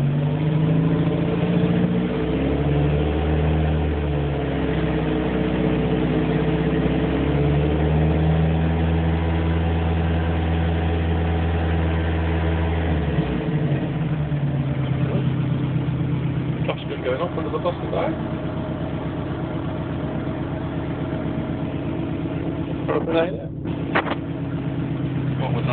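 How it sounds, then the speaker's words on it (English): A Ford car engine runs steadily, its low rumble rising and falling in revs before settling to an idle, heard from inside the car with continuous background noise throughout. "I'm sitting here watching my water temperature"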